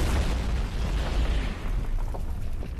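A fuel tank bursts into an explosion after being shot, in a Breaking Bad crime drama scene. One loud, dense, rumbling boom fills the clip and fades slowly, with no talk.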